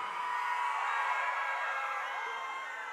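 Concert audience at a live show in Inhapi, Alagoas shouting and cheering, a dense sustained roar of many voices close and loud throughout.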